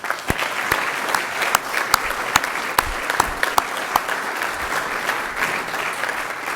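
A crowd at a council swearing-in ceremony applauds a long-serving council member, a sustained, fairly loud burst of many hands with sharp individual claps standing out near the listener.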